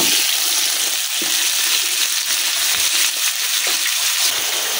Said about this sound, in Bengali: এখন আমি এই যে কচুর মুখীগুলো দিয়ে নিতেছি